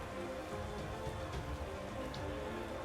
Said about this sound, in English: No, it's just 2 turns of rain.